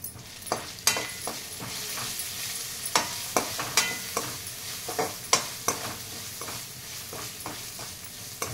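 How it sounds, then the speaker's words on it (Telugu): Ginger garlic paste fries in a pan, a soft constant sizzle punctuated by a dozen or so sharp scrapes and taps of a spoon stirring at an irregular pace, with no one talking. "అల్లం వెల్లుల్లి పేస్ట్ ఫ్రై అయిపోయింది"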